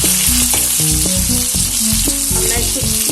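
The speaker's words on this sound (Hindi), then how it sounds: "इसको हम पकाएंगे और धीरे धीरे हल्के हाथ से इसको चलाते रहेंगे।" Stuffed okra (bharwa bhindi) fries over low heat in a pan, a steady loud sizzle running throughout while the pieces are gently stirred, with scraping clinks of the spoon breaking through at irregular intervals.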